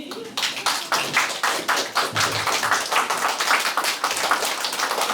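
A crowd applauds at a ribbon cutting for a Ukrainian art exhibition in Schwerin, Germany, with dense, steady clapping close by that carries on for several seconds without a break.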